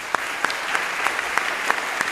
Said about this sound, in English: Let's take one big round of applause for all the students.